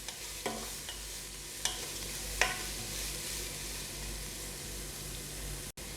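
Three large sliced onions sautéing over a medium flame, a continuous even sizzle with a few sharp clinks and scrapes of a spoon, for Bombay biryani.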